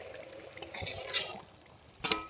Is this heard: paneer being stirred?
yes